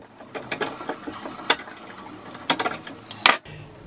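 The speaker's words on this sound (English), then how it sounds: "Tighten it well." A keyed drill press chuck is tightened onto a straight bar salvaged from an old printer, giving close, dry ratcheting clicks in short irregular bursts with brief pauses and no talking.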